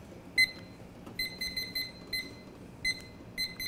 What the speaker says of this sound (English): You set a 5 minute timer?